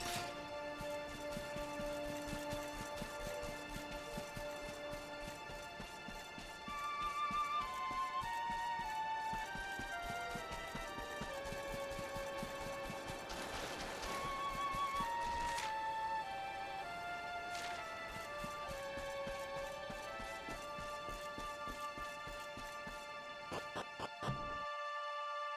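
Horse hooves galloping in the video game Dragon Quest XI, a fast, regular clip-clop rhythm running over sustained background music, moderately loud and continuous, cutting off abruptly near the end.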